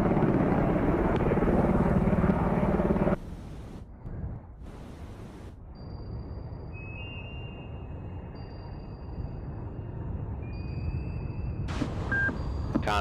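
An aircraft lands on the carrier Admiral Kuznetsov in the naval game Cold Waters. A loud rotor-like engine roar cuts out abruptly, and a quieter steady rumble follows with occasional electronic beeps.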